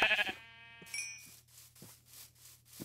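Sheep bleating in the video game Minecraft: one short, loud, nasal bleat up close, followed by soft chimes and quiet rubbing sounds over a low steady hum.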